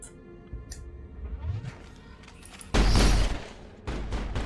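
Assault rifle gunfire in the video game Mass Effect, heard as a few scattered shots early on, then a loud burst of rapid fire near the middle and another burst at the end, with no talking.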